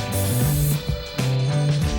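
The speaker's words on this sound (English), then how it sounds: "So I'm going to mask off the sides and spray paint the tops of these silver to match." A spray can hisses in two sustained bursts as silver paint goes onto the masked tops of guitar pickups, with a tonal melody playing underneath.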